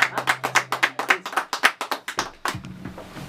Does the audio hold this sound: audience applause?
yes